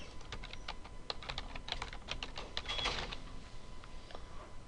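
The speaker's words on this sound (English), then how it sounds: "I'm going to type in my row state password." Fingers tap out a password on a computer keyboard, a quick run of close, light key clicks at an uneven pace with a slightly busier cluster partway through.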